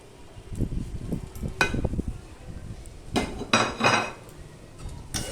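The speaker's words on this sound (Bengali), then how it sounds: "ভেজে রাখা আলু আর টমেটো দিয়ে আমি এইভাবে আবার নেড়ে চেড়ে নেব" Spoon stirring boiled mung lentil dal with fried potatoes and tomato in a cooking pot: irregular scraping and soft clinks of metal against the pot, close, with a few brighter knocks and rustles and no speech.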